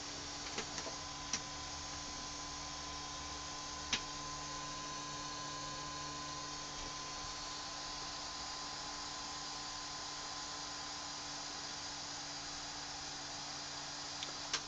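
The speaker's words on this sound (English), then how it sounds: "we'll have a go at sending it to the printer" An eMAKER Huxley 3D printer runs a print with a steady, faint whirring hum and a constant electrical tone, broken by a few soft isolated ticks and clicks.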